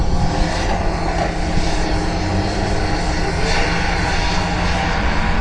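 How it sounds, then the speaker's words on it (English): Turbocharged drag racing cars at a Doorslammers event spool up their turbos with a loud, continuous, broadband engine roar that holds steady and dense throughout. "They're going to spool up the turbos."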